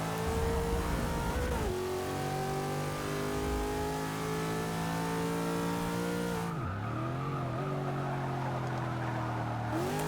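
A Subaru 22B race car in Forza 6 revs hard and continuously, its engine note rising through the gears, dropping sharply at a shift or braking point, then climbing again with a faint tyre squeal.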